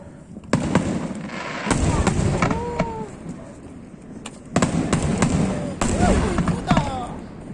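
Independence Day fireworks display at Hwahwa-ri, with repeated sharp bursts and booms, a few whistling glides, and a steady crackle, all under people chatting nearby.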